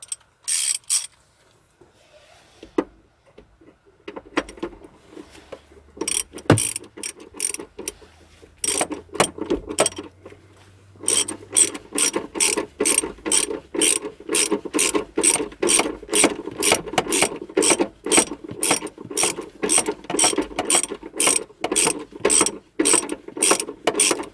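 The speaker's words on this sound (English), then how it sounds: "That 13mm socket just to tighten up that clamp." A 13mm socket ratchet tightens a battery clamp on a Renault Trafic, Vauxhall Vivaro or Nissan Primastar van. A few scattered clicks come first, then a long, close, fast run of rhythmic ratcheting, with no talk.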